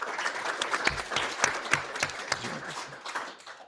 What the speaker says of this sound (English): We give them a round of applause before we transition